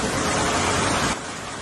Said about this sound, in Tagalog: Nakakatakot tong ulan ngayon, no?